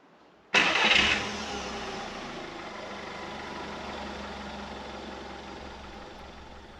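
An Audi A2 1.4 16v engine with a renewed starter motor cranks briefly and catches, firing up with a loud burst before settling into a steady, close idle.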